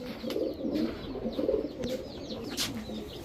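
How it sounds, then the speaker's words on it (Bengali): Giribaz high-flyer pigeons coo in soft, low, repeated burbling phrases close by, with scattered faint chirps and clicks in the background. "এটা হচ্ছে কালারিং কবুতর, হিউজ সাইজ, অনেক বড় সাইজের একটা জোড়া"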